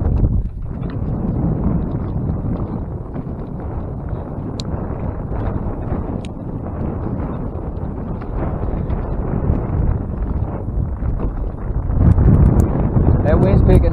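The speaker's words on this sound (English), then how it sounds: "That wind's picking up." Wind buffets the microphone outdoors on the water during post-spawn crappie fishing, a steady low rumble that roars throughout and grows louder near the end.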